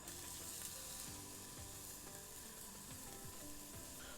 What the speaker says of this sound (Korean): 이제 불 올리고 굽는데요